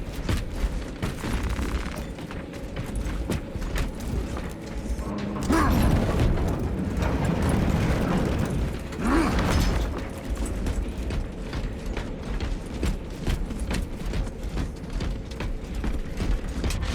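Ammunition restocking machinery in Warhammer 40K Space Marine 2, with clanking, ratcheting mechanical clatter and creaks running throughout, a heavier rumbling surge in the middle, and distant combat noise underneath.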